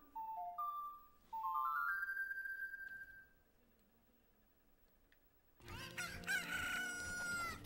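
Chickens (cuccos) from Zelda Ocarina of Time sound in a game soundtrack: a few rising crowing, clucking calls early, then quiet, then a loud dense burst of bird calls with music near the end.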